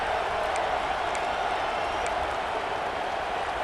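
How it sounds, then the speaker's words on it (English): Home stadium crowd in EA Sports College Football 26 roaring steadily, a dense, loud wash of cheering and applause with faint whistles throughout. "how nice is it to have the home crowd going absolutely bananas?"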